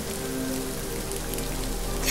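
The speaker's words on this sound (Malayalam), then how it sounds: "എന്നിലേക്ക് പെയ്തിറങ്ങുന്ന ഈ മഴയുടെ ഓരോ തുള്ളിയും" Steady rain falls and patters on surfaces, a dense, even hiss of drops that keeps up without a break.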